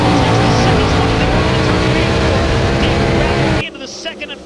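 Loud, dense roar of race cars at full throttle during a dirt track heat race at Huset's Speedway, engines droning steadily under announcer talk before cutting off abruptly near the end.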